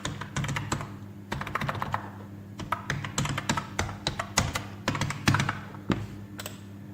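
Someone typing a password on a computer keyboard: quick irregular bursts of close, crisp key clicks with brief pauses between them.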